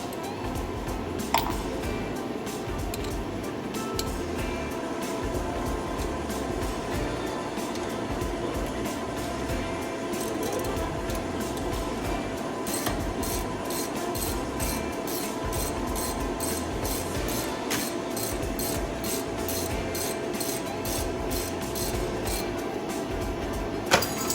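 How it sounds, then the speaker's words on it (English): Ratchet wrench with a 14 mm socket snugging the brake caliper bolts on a car during a brake pad change, a steady mechanical clicking and scraping that runs throughout at close range, with no talk. "So I'll use the ratchet again."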